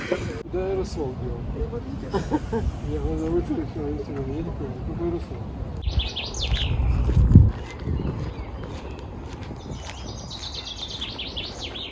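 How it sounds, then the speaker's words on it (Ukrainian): Birds chirp and sing in the background throughout while people talk nearby outdoors in a botanical garden in May; a brief rustle or bump comes partway through. "Класно пташки співають"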